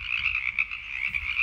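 Frog croaking in a steady, rapid pulsing trill that continues throughout, fairly close and clear, with no voices.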